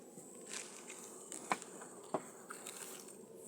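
Carpathian honeybees shaken off a heavy hive frame: a faint, low buzz with two sharp knocks from the frame being jolted, close by and quiet overall.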